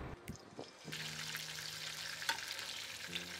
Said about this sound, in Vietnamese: Rồi mình sẽ chiên bò trước với lại một chút lá hương thảo.